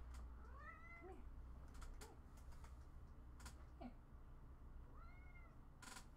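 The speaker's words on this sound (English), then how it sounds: "can you guys hear my cat, like, in the background? Marvin, come here." A cat meows faintly in the background of a room, two or three distant wavering cries amid soft keyboard clicking and a low steady hum.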